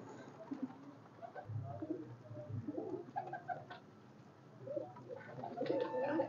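Golden pigeons coo repeatedly in soft, low throaty calls, with brief chirps and faint background noise around them; no one speaks.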